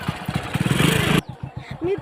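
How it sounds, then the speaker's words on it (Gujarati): A motorcycle ridden out of a shed, its engine putting along at a low idle with a rhythmic throb, briefly louder before dropping, while a voice talks over it. "બાઇક ચલાવીને ચોપાની બહાર કાઢે છે"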